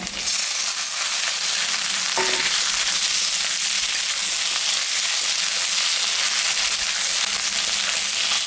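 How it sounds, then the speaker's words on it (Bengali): Boiled potatoes fry in hot oil with onion, dried red chilli and cumin, giving a steady, loud close sizzle that runs unbroken throughout, with a brief clink of a utensil early on. "আলুটা ভাজা ভাজা হয়ে গেছে"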